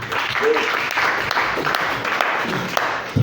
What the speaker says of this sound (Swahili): Leo tuwapigie wazazi makofi yake